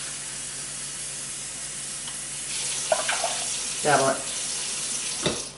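Water is poured into a pot of brown rice, starting as a soft hiss and building into several splashy bursts of pouring; a voice speaks briefly.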